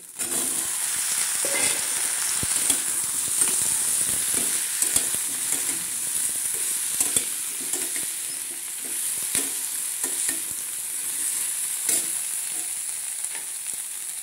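Chunks of taro (mankochu) fry in a pan with turmeric, giving a steady, bright sizzle throughout with occasional stirring clicks and scrapes, close by and with no talk.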